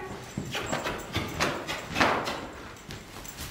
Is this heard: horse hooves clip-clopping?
yes